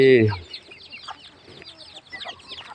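Chickens cluck in the grounds of a Buddhist temple, opening with one loud, close call and then trailing into softer, scattered clucks.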